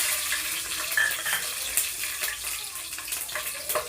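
Green chilies fry in hot Saffola oil in a pan for fish curry, giving a steady, close, loud sizzle with crackling and spitting throughout.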